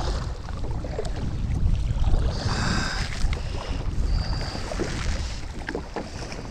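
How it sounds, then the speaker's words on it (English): Small boat moving on choppy water outdoors, with a steady broadband wash of water and wind buffeting the microphone, moderately loud and continuous, with no talk. "it's really getting choppy out here right now"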